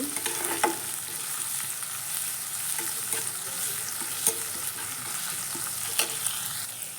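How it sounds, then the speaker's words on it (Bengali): Onion with ginger and garlic paste stirred in a sizzling pan for a light potol and small-fish curry, a steady broadband fry hiss with a few sharp spoon scrapes and clicks scattered throughout, no voices. "আদা আর রসুনের পেস্ট দিয়ে আবার একটু নেড়ে নেব"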